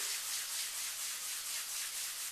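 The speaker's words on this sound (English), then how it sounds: "when I sand, I always use a foam sanding block, and I just simply wrap the sandpaper around it" Steady, close scratchy rubbing of sandpaper wrapped on a foam block against an electric guitar body in an even repeated rhythm, continuous and alone.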